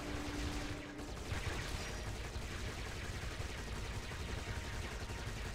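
Dense, continuous gunfire from an anti-aircraft gun in the video game Giants: Citizen Kabuto, a loud sustained rattle of rapid shots with a short tonal hum at the start and no talking.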